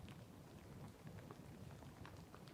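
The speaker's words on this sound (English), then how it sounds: "I'm getting rained on." Rain falls outdoors as a faint, steady patter of drops on surfaces, a low, continuous wash of soft hiss with no voices.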